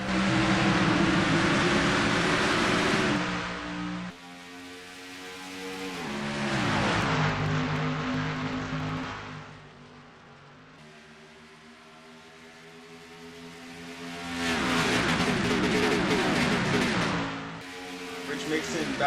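A pack of race cars accelerates away at the green-flag start of a fictional Piston Cup race at Las Vegas Motor Speedway, their engines roaring in rising and falling waves under a commentator's voice.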